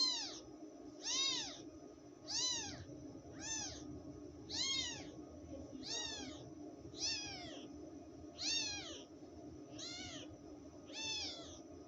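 Newborn kittens give about ten thin, high meows at a steady rhythm, each call short and rising then falling, close but fairly soft, with no talking.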